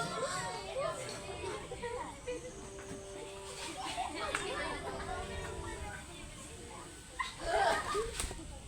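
A puppy whimpers and gives small yips amid a busy background of children's voices and chatter, with a louder burst of yelping near the end.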